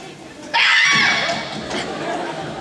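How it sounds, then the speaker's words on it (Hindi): A woman's loud scream erupts suddenly in a comedic skit, sustained and shrill over a second before fading into background noise and voices. "इतनी जोर से क्यों चिल्लाई?"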